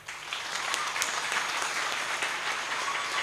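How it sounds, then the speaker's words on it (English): Applause from the audience at a university hospitality school's undergraduate orientation event, a dense, steady wash of clapping at moderate level that holds throughout without speech. "please give him a big round of applause"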